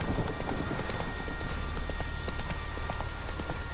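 Geralt's horse Roach galloping in The Witcher 3: Wild Hunt, a steady rapid clip-clop of hooves over a low rumble of game ambience, close and continuous throughout.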